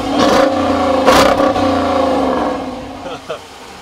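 A 2014 HEMI Dodge Durango R/T engine revs close by with a deep throaty rise and a brief peak, then settles to idle. A person speaks over the rumble.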